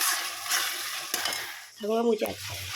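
Mutton stir-fried with Kashmiri chili powder in a pan, sizzling and scraping under the stirring spoon, with a brief clatter of utensil on metal near the end.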